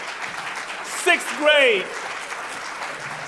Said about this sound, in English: Let's give this man a round of applause, right?